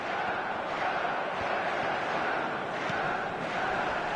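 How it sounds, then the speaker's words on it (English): Stadium crowd cheering in the football game eFootball, a steady, dense roar of many voices holding at an even level throughout, close and continuous. "Certainly gave this crowd something to really cheer about."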